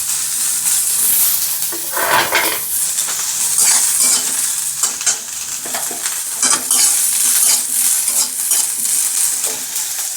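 Cauliflower pieces fry and get stirred in an oil-filled pan for soybean and potato curry, a steady bright sizzle running throughout with repeated scraping stirs and occasional utensil knocks, close and loud, no voices.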